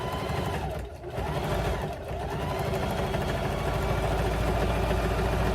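A sewing machine fitted with a 116 Schmetz jeans needle stitching a nursery rug, a steady mechanical whir running close and continuous, with two short dips near the start before it settles into an even drone.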